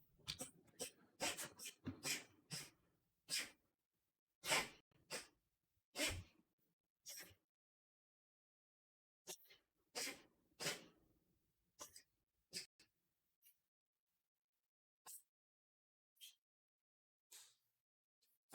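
A cat sneezes in a string of short, sharp bursts, many in quick succession at first and then spaced farther apart, close by in an otherwise quiet room.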